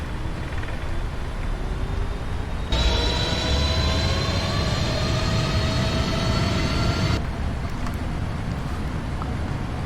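Simulated Boeing 777 engines in the Prepar3D flight game spool up to takeoff thrust, a steady roar joined by rising whining tones that swell for several seconds and then cut back to a lower drone.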